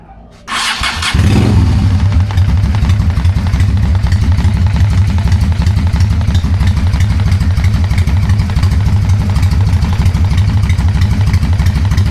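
Honda Steed 400 motorcycle engine with a single carburetor, freshly tuned, starting up and then idling in a loud, steady, throbbing rhythm close by for the rest of the clip.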